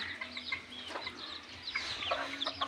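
A hen and her brood of chicks cluck and peep in faint, busy chatter, with soft overlapping calls continuing throughout.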